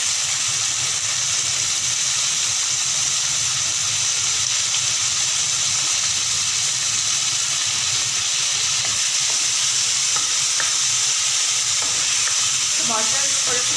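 Chopped tomatoes go into a masala frying in oil for a bitter gourd chicken curry, giving a loud, steady sizzle and hiss that runs without a break, with stirring underneath and a faint voice near the end.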